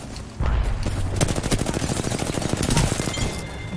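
Rapid automatic gunfire from the video game Apex Legends rattles in a dense, loud burst of closely spaced shots lasting several seconds.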